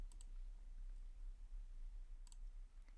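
A computer mouse clicks sharply twice, then again later, close and crisp against a low background hum while an online account is being set up.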